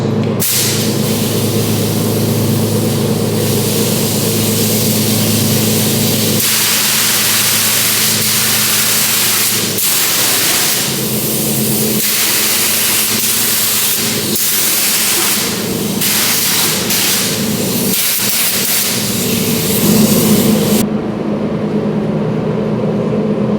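Sealer sprayed from a can onto finned valve covers, a loud, continuous close hiss holding for about twenty seconds with brief dips between passes, then cutting off near the end.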